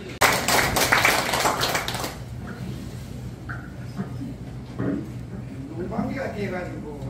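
Audience at a clan association's general assembly bursting into loud, dense applause for about two seconds, which then stops abruptly and gives way to a quieter hall with a voice over a speaker system.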